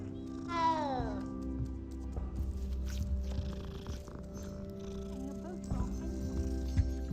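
A cat in the video game Hogwarts Legacy lets out one clear, rising-and-falling meow near the start, followed by quieter purring and ambient game sounds.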